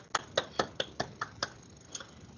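Children are applauded in a school worship assembly with a short, faint run of about eight separate hand claps in an uneven rhythm, thinning out toward the end in a quiet room.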